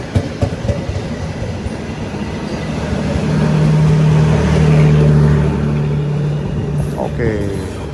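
The Pandalungan passenger train, made up of old stainless steel executive-class carriages, runs with a rumbling rail roar that swells midway, a sustained low hum rising over it and a brief squeal near the end.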